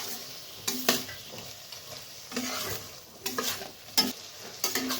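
Spice mix and yogurt being stirred in a frying pan for a prawn curry, soft oil sizzle underneath with several quick scraping strokes of a spoon against the pan, close and fairly quiet.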